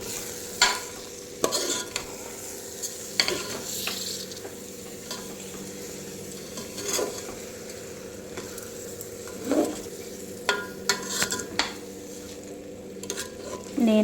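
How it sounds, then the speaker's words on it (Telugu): Rice mixed with masala in a pan for tomato pulao: a spoon scrapes and clinks against the pan in irregular bursts over a soft, steady sizzle, close and fairly loud. "ఇప్పుడు రైస్ వేసుకున్నాం కదా, దీన్ని ఈ మసాలాతో మంచిగా కలుపుకుంటాం."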